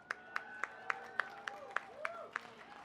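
A crowd at a Mint Eco car wash grand opening VIP party claps in a steady, even rhythm, about nine sharp claps in under three seconds, moderately near, with a faint voice underneath.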